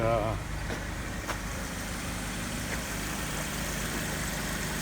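A Honda Civic Si engine settles into a steady, continuous idle right after starting, a droning rumble heard up close with a person speaking over it briefly at the start.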